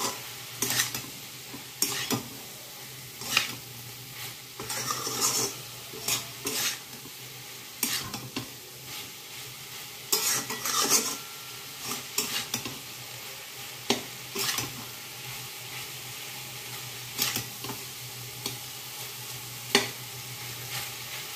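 Fish with spices fries in a pan over a high flame while being stirred. A steady sizzle runs underneath, and repeated scraping and clanking strokes of the utensil come at irregular intervals, close and clear, with no talk.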